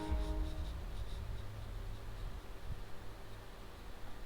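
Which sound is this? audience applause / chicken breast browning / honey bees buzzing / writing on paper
writing on paper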